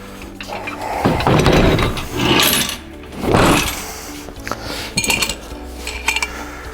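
Leg extensions fitted onto a plastic folding table: several hollow plastic and metal clunks and scrapes, close and fairly loud, with rattly handling between them.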